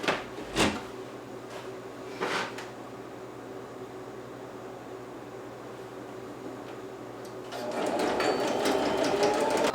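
Sewing machine stitching 3/8-inch seams on mitten fabric pieces, a steady mechanical hum running under the clip with a few short clicks early on and a louder, busier burst of stitching near the end.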